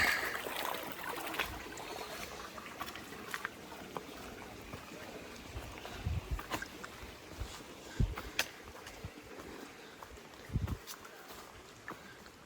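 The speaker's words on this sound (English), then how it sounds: "Got our first creek crossing of the day." Soft, steady rush of a creek with orange-tinged water at a trail crossing on the Appalachian Trail, scattered splashes and gurgles, faint and continuous, occasional louder knocks and scuffs nearby.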